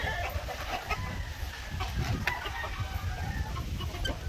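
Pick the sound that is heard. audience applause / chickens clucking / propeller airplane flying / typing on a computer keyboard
chickens clucking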